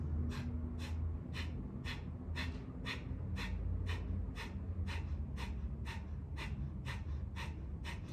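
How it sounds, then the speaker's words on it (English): Rapid, sharp breaths forced out through the nose in breath-of-fire breathing, about two per second in an even rhythm, close and fairly soft, with no talking. "it's just a series of exhaling quickly and sharply through the nose"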